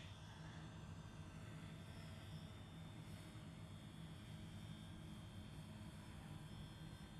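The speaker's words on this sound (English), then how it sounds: "That's the most beautiful drone I have ever seen take flight." A restored Develop Air drone flying on iVue RC radio control, its motors giving a steady, faint broadband whir with a low hum that holds evenly throughout, no voices present.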